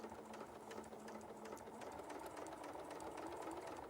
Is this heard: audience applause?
no